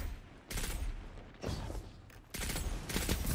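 Redrix Broadsword pulse rifle firing in Destiny 2, three dense bursts of rapid shots close up, each separated by a short quieter gap.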